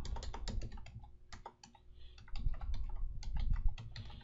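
Quick bursts of keystrokes on a computer keyboard while a web address is entered, close and crisp, with a brief pause before the rapid clicking resumes.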